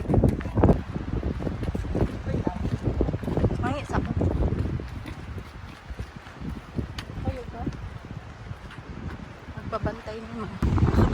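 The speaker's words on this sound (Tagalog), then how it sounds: "Sobrang lakas ng hangin." Strong gusts of wind at Lindeman Lake batter the microphone in a continuous loud, buffeting roar, with people talking intermittently over it.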